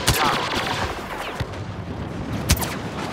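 Blaster gunfire in Star Wars Battlefront, a steady stream of rapid shots with a few sharper cracks, fairly loud.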